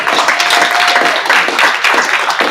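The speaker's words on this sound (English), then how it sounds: "Let's give him a round of applause." An audience breaks into applause, dense clapping that carries on steadily for a couple of seconds at a chamber of commerce event.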